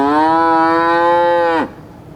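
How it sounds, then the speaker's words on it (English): A cow gives one long, loud, close moo, a steady harmonic bellow lasting about a second and a half that drops in pitch and cuts off sharply. "A cow can moo."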